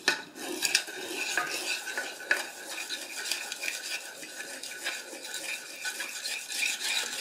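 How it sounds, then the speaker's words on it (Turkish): A spoon stirs water with a thin lemon slice in a pot or bowl, continuous swishing and clinking scrapes with small sharp knocks against the sides, close and clear with no talking. "1 tane limon, ince bir dilim. Karıştıralım."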